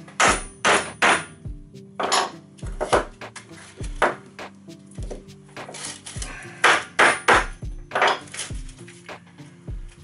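Sharp, loud metallic hammer blows in irregular bursts, some rapid clusters of several strikes, with brief pauses between, close up and without talk, while making a hand sanding block in woodworking.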